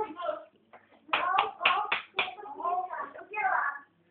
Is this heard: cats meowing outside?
no